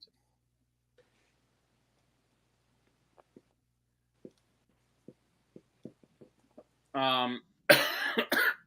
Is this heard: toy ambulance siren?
no